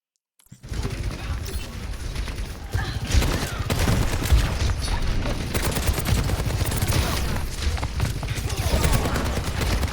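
Rapid, sustained gunfire from the Soldier character in a video game, loud and dense, with bursts running almost continuously after a brief silent start.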